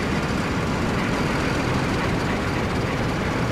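Tank engine idling in the WWII strategy game Codename: Panzer, a steady dense rumble holding evenly at moderate loudness throughout with no voices.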